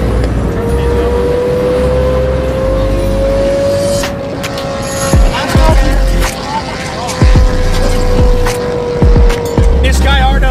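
A Chevrolet Corvette C8 engine idles loudly close by and then revs in several sharp bursts, each rising and dropping back, with people talking over it.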